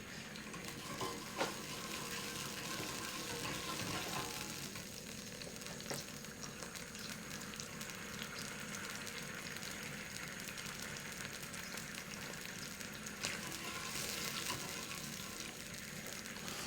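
Butter and oil bubbling in a pan on a hob, a steady, even sizzling and frying hiss throughout with faint clinks, no talk.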